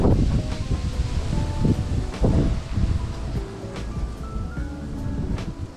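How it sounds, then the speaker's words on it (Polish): Strong outdoor wind buffets the microphone, making a low, rough roar with uneven gusts and brief bursts of rustling. "Nie mam pojęcia, czy w ogóle będzie mnie słychać przez ten wiatr."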